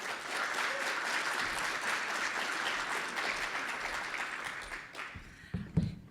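An audience applauds to welcome keynote speaker Dr. Ann Carpenter at a talk on Cell Painting for drug discovery, sustained dense clapping that fades out, followed by a few handling bumps.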